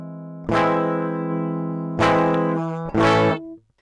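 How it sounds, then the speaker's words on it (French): An electric guitar runs through the Holy Fire 9 distortion plugin at a milder drive setting, giving three loud, sustained chords with ringing overtones, each cut off before the next, then fading out. "Et vous voyez qu'on récupère un son beaucoup moins distordu que là."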